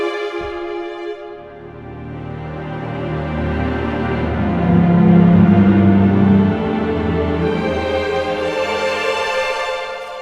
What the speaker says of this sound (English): It's the Molto Vibrato patch from full strings